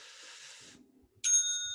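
A small bell gives a single bright, clear ring near the end, sustained and fairly close, after a faint hiss and a short lull, with no speech.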